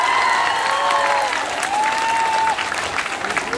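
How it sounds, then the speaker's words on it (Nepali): A crowd of supporters at a rally claps hands in a sustained dense burst, while faint tonal sounds drift over the applause before it thins slightly toward the end. "उहाँलाई पनि एकचोटि हात माथि गरेर ताली बजाइदिनु होला।"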